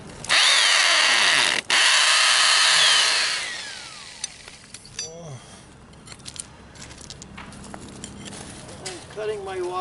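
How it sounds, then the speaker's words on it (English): A power drill whines loudly for about four seconds with a brief stop while drilling holes for pins during paver installation, then winds down, followed by scattered clinks and handling noises nearby. "I'm drilling to put my pins in."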